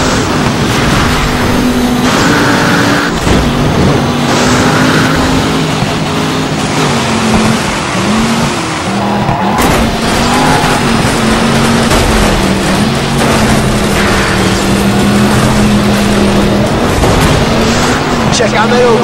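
Racing cars in DiRT Showdown roaring and jostling as they overtake, loud continuous engine drone with shifting revs, scrapes and impacts, under game commentary speech.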